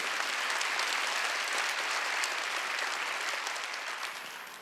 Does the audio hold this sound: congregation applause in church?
yes